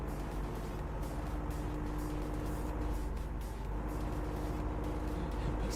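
A car engine drones steadily while driving at speed in TruckersMP, a truck-driving game, a constant low hum with faint road noise and no talking.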